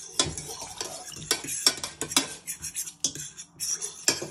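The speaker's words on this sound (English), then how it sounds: "Then with a fork you want to stir this all in so it starts to evaporate." A fork scrapes and clinks against a bowl as mint sauce is stirred, with repeated irregular metallic taps and scrapes up close and no talking.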